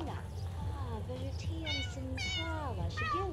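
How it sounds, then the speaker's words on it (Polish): Cartoonish game cat in The Sims 2 meowing repeatedly for food, several rising and falling meows in quick succession over a steady background music bed. "O, kot prosi o jedzenie"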